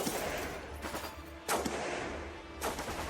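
Soldiers open fire in the video game Forgotten but Unbroken, in a wartime cinematic. A few distant, muffled gunshot bursts sound over a low rumbling background, with sharp cracks near the middle and end. No one talks.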